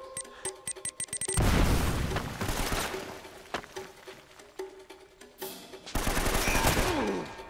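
Gunfire from the video game Uncharted: Drake's Fortune: rapid bursts of automatic fire open the clip, then heavy booming shots and loud blasts, with dense rattling fire returning near the end.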